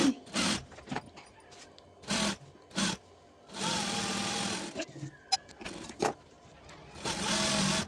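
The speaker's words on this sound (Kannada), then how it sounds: "ನಾನು ಲೈನಿಂಗ್ ಸ್ಟಿಚ್ ಹಾಕ್ತಾಯಿದ್ದೀನಿ" A sewing machine stitches the lining of a size 40 blouse in several short whirring bursts and two longer runs, close by, with quiet pauses between them.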